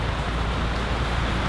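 Steady rain pours outdoors at a park memorial gathering in Japantown, San Jose, an even, dense patter on surfaces running without a break and with no voices above it.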